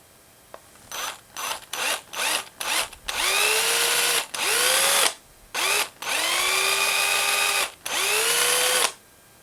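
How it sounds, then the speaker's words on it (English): A power drill bores holes in a homemade topwater crawler fishing lure, the motor whining up in a series of short bursts and then longer runs, each rising in pitch and stopping abruptly, close and loud with no talking. "I'll just put a couple of dots there and drill these out"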